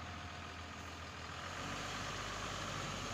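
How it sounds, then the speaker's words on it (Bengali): A 2019 Tata 2518 drum truck in fresh condition idles with a quiet, steady diesel drone, and its low rumble grows fuller partway through. "এই যে দেখেন আপনারা, ইঞ্জিন সাউন্ডটা দেখেন কতটা সুন্দর, ভালো রয়েছে"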